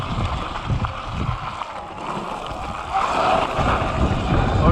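A motorbike ridden out toward a downhill mountain-bike trail site, its engine rumble mixed with heavy wind buffeting the microphone, steady and loud throughout with a slight swell near the end.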